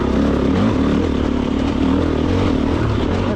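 A Stark Varg electric motorcycle on an enduro trail pulls hard in fourth gear, with a steady loud drive whine and drivetrain clatter running continuously, close to the microphone, with no talk.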